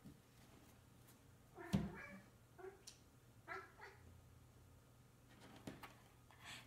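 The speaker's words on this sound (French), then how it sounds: "C'est mon chat qui parle à ses amis dehors." A cat meows outdoors in a series of separate calls, some faint and distant and one louder and closer, against a quiet indoor background.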